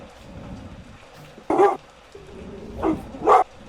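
A dog gives a few short barks, two or three separate bursts over a quiet, low background, moderately close.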